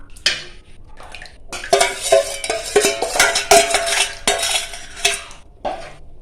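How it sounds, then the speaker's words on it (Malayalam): A spoon stirs palm jaggery into thickening kurukku in a pan, with repeated scraping and clinking strokes against the metal, loud and close, with a faint sizzle underneath. "നല്ലതുപോലെ ഇളക്കി കൊടുക്കണം."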